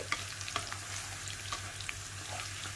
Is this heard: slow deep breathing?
no